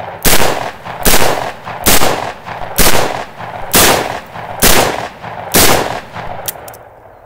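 A Taurus eight-shot .357 Magnum revolver with a ported barrel fires six loud, sharp shots outdoors on a ranch, spaced roughly a second apart with short echoing tails between them.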